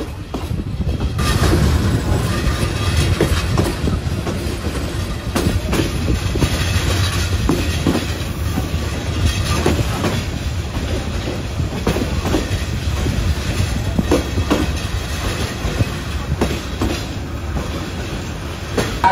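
Paharika Express intercity train running on the rails into Sylhet railway station, a loud continuous rumble with clickety-clack wheel rhythm and a faint high squeal throughout, close by and steady.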